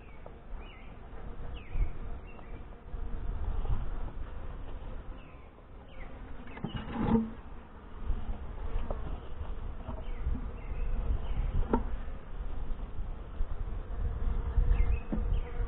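Saskatraz honey bees buzz around an opened hive during a spring inspection, a dense continuous drone close by with individual bees passing near and a few faint bird calls in the background.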